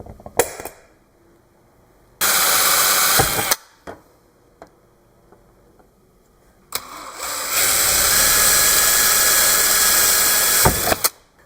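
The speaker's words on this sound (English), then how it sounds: "I want to drill my holes in this" A power drill bores holes in an aluminum gauge bezel, running in two loud sustained bursts of several seconds each, separated by quieter handling noise.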